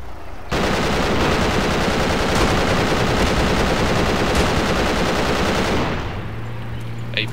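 Sustained automatic gunfire in the Project Reality combat game on the Muttrah City map, a dense rapid rattle running loud and continuous for about five seconds before cutting off to quieter ambient battle noise.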